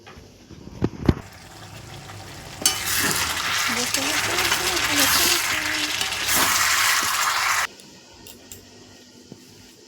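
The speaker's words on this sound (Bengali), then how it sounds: "দাঁড়াও কড়াইটা নেড়ে দিয়ে আসি" Curry fries in a kadai with a loud burst of sizzling and stirring lasting about five seconds, framed by quieter room sounds, a few knocks and brief faint talk.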